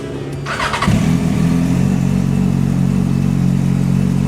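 A Kawasaki Ninja 1000 SX inline-four motorcycle engine fires up after a brief mechanical whir, then settles into a loud, steady, throbbing idle close by with no one talking.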